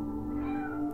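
A cat meows in the video game Stray, one drawn-out, fairly quiet tonal meow with a steady pitch, heard alone without talk.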